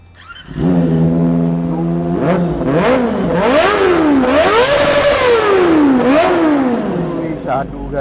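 A small Modenas ZX25R motorcycle engine revs hard several times close by, its pitch climbing and dropping in sharp bursts.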